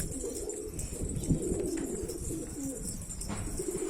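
Homing pigeons coo softly and repeatedly on a rooftop loft, several birds close by, with a low murmuring rhythm over faint background noise.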